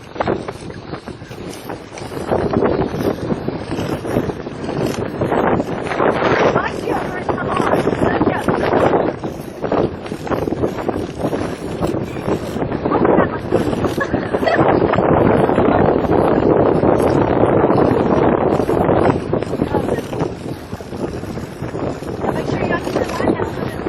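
Strong wind roars steadily across the open deck of the Anthem of the Seas cruise ship, loud and gusty throughout, with people talking now and then beneath it.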